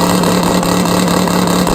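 Drag bikes at a nitrous and turbo drag racing event launch hard off the starting line, among them a Kawasaki and a 2009 Suzuki Hayabusa, in a loud, dense, sustained engine roar up close.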